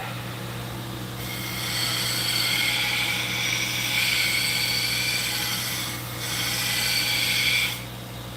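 Spindle gouge edge sharpened on a grinder, a continuous whirring hum with a brighter grinding rasp that swells while the steel touches the wheel.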